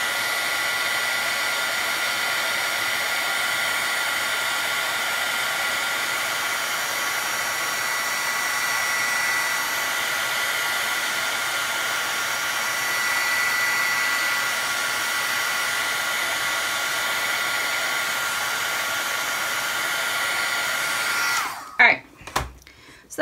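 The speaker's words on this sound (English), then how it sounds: "So I'll just heat emboss this real quick." Heat gun whirring steadily at close range for about 21 seconds while embossing powder on a stamped paper sentiment is melted for a card, then clicking off with a few handling knocks at the end.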